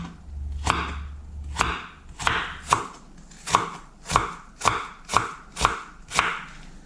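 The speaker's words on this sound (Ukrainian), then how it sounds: "Нарізаю яблучко соломкою" A knife chops a large sour apple into strips on a cutting board, about a dozen crisp, evenly spaced strikes close up, with no speech.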